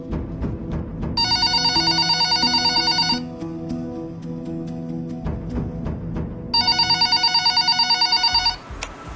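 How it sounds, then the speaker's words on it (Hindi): Two bursts of a warbling electronic phone ring, loud and nearby, separated by a pause with clicking and tonal chimes between them. "अरे देखो किसका फोन आ रहा है भाई।"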